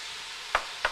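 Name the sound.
onions, carrots and celery sizzling in pan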